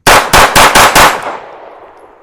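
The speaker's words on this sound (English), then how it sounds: "We're doing ammo testing to see if this functions in this gun." A rapid string of about five loud, close gunshots from a Live Free Armory Apollo 11 pistol firing MagTech 115 grain ammunition outdoors, the last shot trailing off in an echoing decay.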